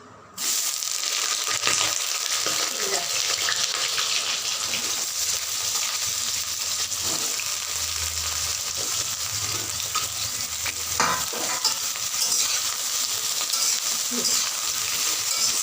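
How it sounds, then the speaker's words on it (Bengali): Eggplant slices fry in hot oil for shukto, giving a steady, close sizzle that runs throughout, with occasional utensil scrapes and faint crackles and no talking. "বেগুনটা আগে একটু ভেজে নিচ্ছি।"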